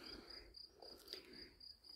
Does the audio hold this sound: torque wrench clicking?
no